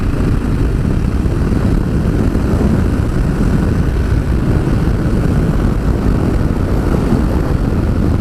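A 2019 Triumph Scrambler 1200 XC accelerates to overtake on a hot day, its engine a steady, loud, dense roar mixed with heavy wind rush at the rider's position, holding level with no break throughout.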